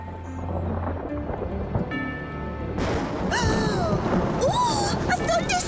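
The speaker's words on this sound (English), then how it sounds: "Oh, a thunderstorm!" Rumbling thunder rolls under heavy rain and wind, joined midway by bright, swooping musical tones, loud and dense.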